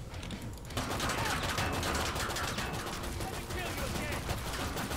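Sustained automatic gunfire in Killing Floor 2 as a zed's legs are shot off, starting after a brief lull and continuing as a loud, dense rattle of rapid shots, no talk.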